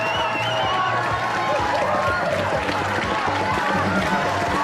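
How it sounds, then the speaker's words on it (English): A crowd cheers and applauds steadily for a man attempting a punching world record, a dense wash of clapping and voices with rapid thudding punches underneath and a commentator talking over it. "Plenty of applause."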